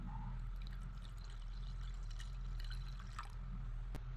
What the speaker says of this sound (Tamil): அடுத்து இளநீரை சேர்த்துடலாம்.